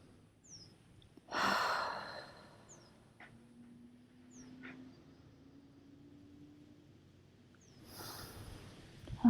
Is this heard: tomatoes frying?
no